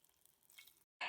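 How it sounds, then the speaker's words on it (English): A soft, hissing sizzle of meat frying in a pan, then a brief silence before a louder burst of crackling sizzle close by. "Can you see how it's sizzling, and can you hear the sizzle?"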